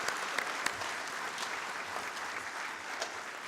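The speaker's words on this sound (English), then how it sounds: "A big round of applause" Steady applause from an audience at a corporate anniversary celebration, a dense even patter of many hands clapping throughout, with no voices over it.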